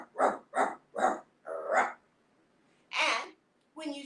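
Children's voices imitate a mean, angry dog, giving five quick barks in a row, a pause, then two more loud barking shouts.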